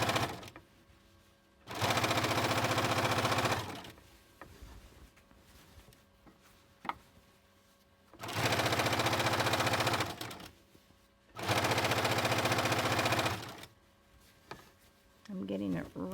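A sewing machine stitches quilt binding in three bursts of rapid, steady whirring, with quieter gaps between runs where a voice speaks.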